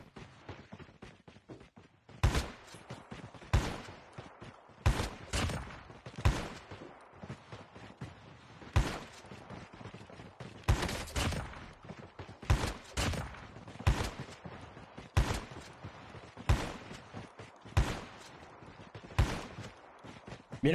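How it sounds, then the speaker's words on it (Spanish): Call of Duty gunfire in a video game: repeated sharp gunshot bursts over about twenty seconds, some single shots and some quick runs of shots, loud and close over a steady game background. "Cuando tú le haces un disparo así al personaje y no le hace daño"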